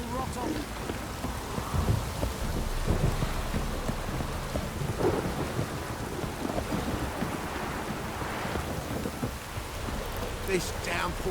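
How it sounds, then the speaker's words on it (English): A heavy downpour in the video game Witcher 3 hammers down in a thick, unbroken hiss of rain with low rumbles rolling underneath, loud and enveloping for the whole stretch. "This downpour's a bastard, it is."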